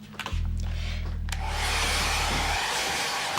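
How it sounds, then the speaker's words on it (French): A hair dryer switches on and runs steadily with a close, loud whooshing roar and a low motor hum that drops away after a couple of seconds, leaving the airflow noise. "Séchoir à cheveux."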